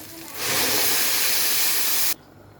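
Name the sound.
water added to spices in hot cooking pot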